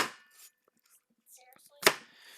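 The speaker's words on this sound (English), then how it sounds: "We're chopping up some apples." Apples are chopped for apple cider with a couple of sharp knife strikes on a board, including one crisp, loud chop near the end, between stretches of quiet and brief talk.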